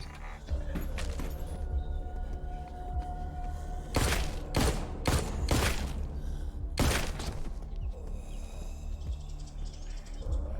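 Gunfire in the video game The Walking Dead: Onslaught, a handful of sharp shots in two quick bursts, with the first pair close together and a later single, loud and close over steady game ambience.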